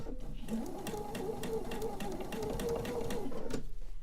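Sewing machine stitching through thick, bulky quilt layers with a thin size 70 needle, a steady fast mechanical whir and rapid needle clatter running continuously for about three seconds before stopping.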